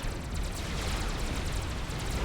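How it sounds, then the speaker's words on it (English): Explosions rumble in a Supreme Commander real-time strategy battle, a faint, steady wash of low roar and crackle, with no voices. "We do see another explosion to the west"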